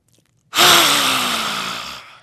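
A forceful, breathy lion's breath exhale in a pranayama practice bursts out after a brief silence and holds for about a second and a half. It is close and loud, with a raspy, throaty tone that slowly fades.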